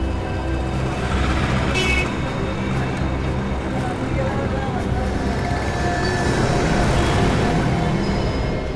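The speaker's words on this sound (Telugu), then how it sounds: "సార్, ఈ ట్రక్ అనుకుంటాను సార్." A truck rolls along a road at night, its engine rumble and road noise continuous and fairly loud, with a brief hiss like an air brake early on and voices talking over it.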